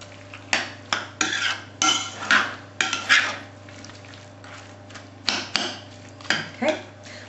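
Spoon scraping and knocking against a bowl while Christmas pudding mixture is stirred, a run of sharp clinks and scrapes in uneven bursts over a steady low hum.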